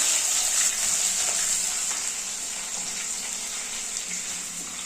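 Chopped garlic and ginger fry in hot oil with mustard seeds and fenugreek for a mackerel curry, a steady bright sizzle close by that eases slightly over a few seconds.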